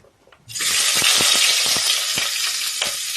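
Onions drop into hot oil in a cooking pot and burst into a loud, steady sizzle about half a second in, with light clicks of stirring over the continuous hiss.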